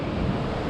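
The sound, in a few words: strong wind on Pembrokeshire coast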